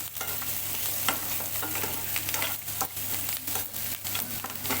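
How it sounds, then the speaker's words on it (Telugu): Spatula scraping and turning a low-oil crispy potato fry with chili powder and fresh coriander, soft rhythmic stirring strokes over a quiet sizzle, close and fairly faint. "కొంచెం కడిగి పెట్టుకున్న కొత్తిమీర వేసుకొని ఒకసారి అయితే కలుపుకోవాలి"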